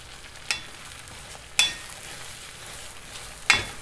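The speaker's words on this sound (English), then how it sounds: "Now the egg is floating on top of the oil, so it's not going to stick to the pan." Egg frying in hot oil in a pan for fried rice: a soft steady sizzle with three sharp clinks or scrapes of a utensil against the pan, spaced irregularly across the stretch.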